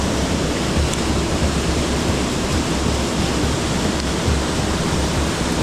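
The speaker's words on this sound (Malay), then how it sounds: "Air terlampau laju lah." Fast-flowing river water rushes loudly and steadily with a dense, unbroken roar, close by and with no voices, at a mahseer fishing spot.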